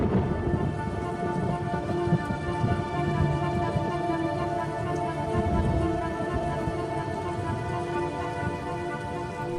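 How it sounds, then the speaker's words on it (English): Heavy rain pours in a ceaseless torrent over African hyena territory, a dense, steady roar of drops drumming on surfaces with low rumbling beneath, continuous and loud with no voices. "the rains continue to fall in a ceaseless torrent."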